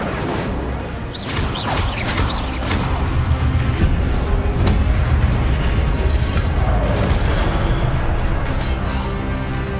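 Incendio fire spell cast in Hogwarts Legacy, a loud sustained roar of magical fire and booming bursts with whooshing sweeps layered over a dense game soundscape.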